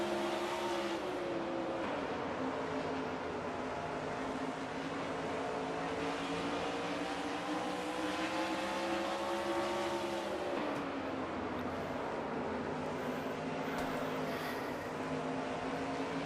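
Engines of a pack of NASCAR stock cars in a racing video game, including a Miller Genuine Draft Ford, drone steadily, with layered pitches rising and falling together as the pack runs close.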